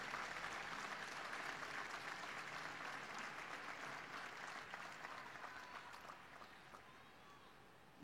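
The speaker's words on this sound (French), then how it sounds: "saluons par nos applaudissements." An audience in the papal audience hall applauds during Pope Francis's catechesis, a steady, fairly faint spread of clapping that slowly tapers off over several seconds.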